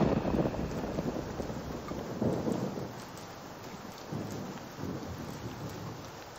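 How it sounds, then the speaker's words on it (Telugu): Heavy rain falls steadily in a Telugu movie scene, a dense hiss with low rolling thunder swells rising and fading, and no voices. "అరే గణేష్, ఏంట్రా వర్షంలో కూర్చున్నావు?"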